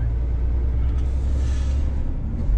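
A truck pulling a semi-trailer drives along a narrow road, producing a steady, heavy low engine rumble with road noise from inside the cab. The drone is continuous and loud, with no talking.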